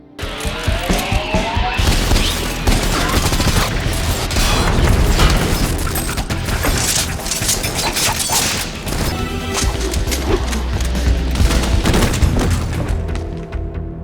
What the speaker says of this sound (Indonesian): Jadi dia mulai menunjukkan kemarahan dengan menggunakan kedua pistol mantap yang dia sembunyikan, dan menghabisi semua petugas yang ada di tempat ini.